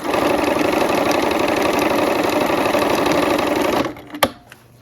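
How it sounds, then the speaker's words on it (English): A sewing machine runs a rapid, steady zigzag stitch over a lace seam allowance, its fast mechanical chatter continuing for nearly four seconds before stopping with a sharp click. "I'm gonna go ahead and zigzag over that seam allowance there just to hold that lace in place"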